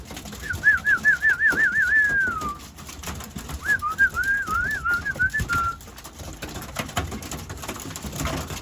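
Young racing pigeons at a new aviary give warbling, whistly coos in two close bursts over a steady background hiss and light patter.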